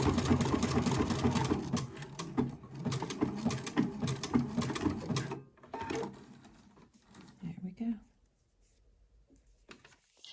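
A sewing machine stitches bralette fabric in rapid bursts of running stitches, close and clear, pausing briefly before a final short run and then falling quiet.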